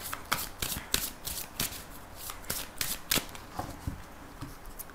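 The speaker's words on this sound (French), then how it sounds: "on va faire un tirage en 13 cartes avec le Téléma Lenormand" Lenormand oracle cards are shuffled in a steady run of soft, papery riffles and slaps, each close and crisp, continuing without any voice for several seconds.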